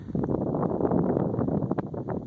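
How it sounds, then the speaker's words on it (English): Gusty wind buffets the microphone outdoors at a cemetery near Howard, Colorado, a loud, continuous rough roar with uneven surges and no talk over it. "It's kind of windy out today."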